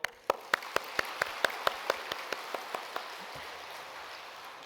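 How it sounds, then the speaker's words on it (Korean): Church congregation clapping in unison after a youth summer retreat, a steady rhythmic run of about fourteen sharp claps that gradually fade, with a roomy reverberant background. "먼저 박수 한번 치시죠."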